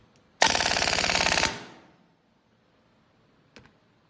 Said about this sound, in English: The gun is in the continuous firing.